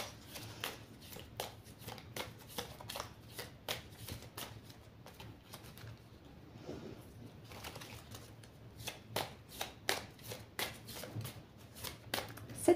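Tarot cards being shuffled by hand for a seven-card spread, a long run of crisp riffling bursts and soft flutters at a quiet, close level, with brief pauses between shuffles.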